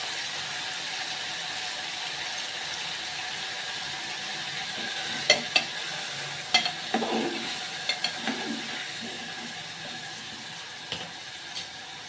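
Tomatoes go into hot oil for a tomato soup base, giving a soft, fairly quiet sizzle with a handful of clicks and scraping knocks from stirring in the middle of the stretch; no one speaks.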